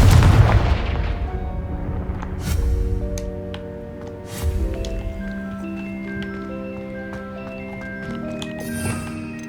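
A booming explosive spell blast in the Hogwarts Legacy video game, a loud low impact at the start that decays into rumbling echoes, with lighter game effects and tonal chimes trailing after.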